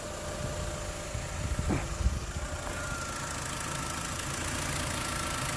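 A Mini One car engine idles steadily during a coolant and antifreeze flush, a constant mid-pitched hum with a couple of brief clunks partway through.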